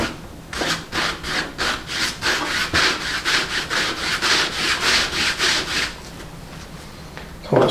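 Thin white latex paint whitewash rubbed by hand onto wood, a rapid series of about fifteen rhythmic scrubbing strokes, close and fairly loud, trailing off into quiet near the end with no speech.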